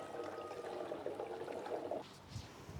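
Water from a 4-litre supply pours steadily into a canister for a portable waste-oil water heater, a continuous close gushing that stops abruptly near the end, followed by a brief clatter.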